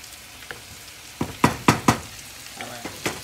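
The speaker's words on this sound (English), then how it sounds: "I'm just going to mix my white rice" White rice is stirred in a pot with a utensil, making several close scraping knocks of uneven spacing over a faint background hiss.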